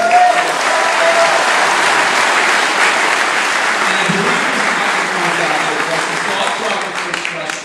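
Sustained applause from a large audience honoring Justin Tuck, a steady dense wash of clapping that holds strong for several seconds before easing slightly at the end.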